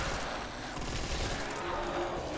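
Bursts of rapid automatic gunfire from a weapon in Call of Duty: World at War Zombies on the Verruckt map, loud, dense and continuous across the moment with no talk.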